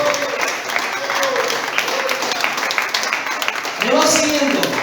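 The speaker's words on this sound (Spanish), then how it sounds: "Aplauda al que vive." A church congregation claps along in steady applause while a preacher's voice carries over the top, the clapping continuous and moderately loud beneath the talk.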